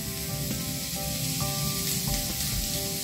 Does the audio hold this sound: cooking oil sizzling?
yes